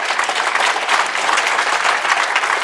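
Sustained applause fills a hall at an Asian Heritage Month closing ceremony in Markham, a dense, even wash of many hands clapping close by, steady throughout without any speech.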